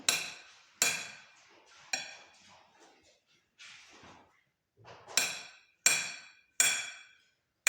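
A knife slices a banana on a plate while baby food is made: sharp, close clinks of blade on plate land one at a time, irregularly spaced and separated by softer scraping, in an otherwise quiet room.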